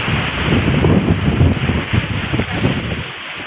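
Strong Kalbaisakhi storm wind in Odisha roars in a continuous, loud, buffeting rush that batters the microphone throughout, with no one speaking.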